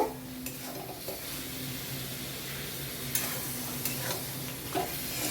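Poppy seed paste frying with ridge gourd in a pan gives a soft steady sizzle, with a few sharp spoon scrapes and taps against the pan as it is stirred, fairly quiet overall.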